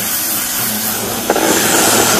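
A Ryobi 1,600 psi compact electric pressure washer blasts dirt off a mower deck, a steady close broadband hiss of spray that holds throughout and swells slightly louder partway through.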